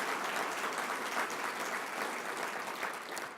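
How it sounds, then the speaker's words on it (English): A breakfast audience at a 2015 community event applauds for Golden Corral in a steady, dense wash of clapping that holds strong for the whole stretch before easing slightly at the end. "a big round of applause for Golden Corral"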